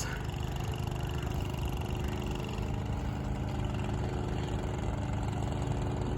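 A motor boat carrying motorbikes on the Islamgarh to Mirpur crossing chugs with a steady, loud engine drone that holds an even rhythmic throb throughout.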